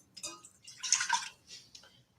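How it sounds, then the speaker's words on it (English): One cup of water is poured into the bottom of an Instant Pot while making crème brûlée, giving a few soft, splashing bursts that come and go quietly up close. "1 cup of water in the bottom."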